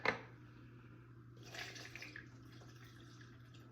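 Faint splashing pour of oat milk into a blender, starting with a soft clunk and trailing off into a quiet trickle.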